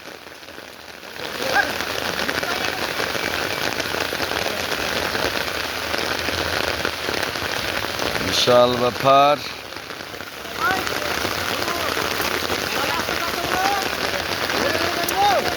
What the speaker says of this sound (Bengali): ঝড় ঝড় বৃষ্টি ঝরছে